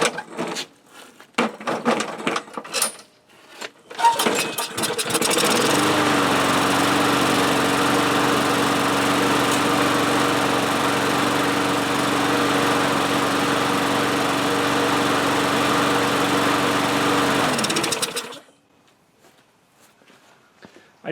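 A Craftsman EZ Start lawn mower engine starts after a few rough clunks and footsteps, then runs steadily and loudly at close range for about twelve seconds before shutting off, with no talking.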